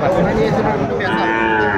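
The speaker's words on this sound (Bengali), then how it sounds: "জি অনেক বড় গরু, এগুলোর থেকে অনেক বড় গরু।" A Sahiwal bull calf lets out a loud, drawn-out moo close by, with people talking in the background of a noisy cattle market.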